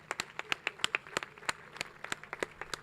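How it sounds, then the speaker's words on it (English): Audience applause at an international business forum, scattered sharp hand claps in an irregular rhythm, moderately close and fairly light, without voices over it. "Let us give them a very big round of applause and standing ovation, please."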